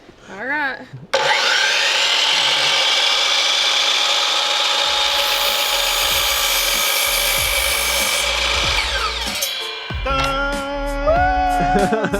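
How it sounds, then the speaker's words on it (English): A handheld power saw whines steadily through wood for about nine seconds, loud and close, before winding down; brief clatter and movement follow while a person talks nearby at the start and end. "So you cut on that side of the line. I'll hold the wood. Just squeeze the trigger and pull it down slowly."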